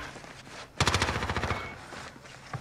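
Rapid automatic gunfire in Warzone Rebirth, a loud close burst of evenly spaced shots lasting under a second, then quieter scattered game noise.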